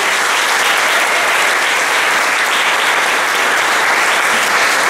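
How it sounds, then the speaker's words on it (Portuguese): A church congregation applauds during a Portuguese-language service, a loud, dense and continuous wall of clapping from many people that holds steady throughout. "Dê um aplauso a Jesus Cristo, por favor."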